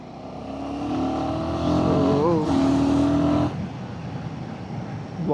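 A Royal Enfield motorcycle engine revs hard and accelerates nearby, loud and rising in pitch before easing to a lower steady drone, with a voice talking over it.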